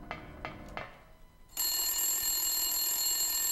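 An old-style telephone bell rings in the Silent Hill video game, starting abruptly after a few footstep-like knocks and continuing as a loud, sustained metallic trill with no voices.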